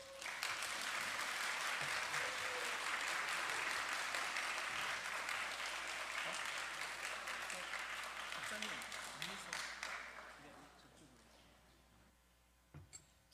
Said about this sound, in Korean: 단위에 올라오실 때 큰 박수로 환영해 주시기를 바랍니다